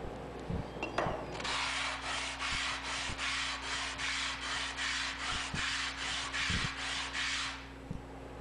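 A worn natural hone stone is lapped flat on 80 grit sandpaper: a rhythmic series of about fourteen rasping back-and-forth scrubbing strokes, close and even, with a few light knocks at the start and end.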